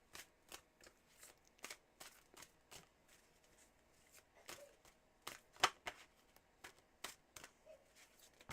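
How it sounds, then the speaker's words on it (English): Tarot cards being shuffled by hand, a quiet, close series of crisp riffling bursts and flicks repeating at a brisk uneven rhythm, with one sharper snap near the middle and no talking. "Here are your 5 official shuffles."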